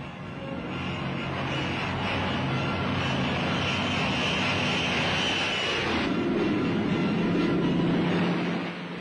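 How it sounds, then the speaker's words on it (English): Hawker Hurricane fighter and a Junkers bomber twisting through mock combat, a steady loud piston-engine roar filling the whole stretch, with the engine note shifting lower partway through as the aircraft turn. "Hurricane and Junkers twist and turn in mock combat"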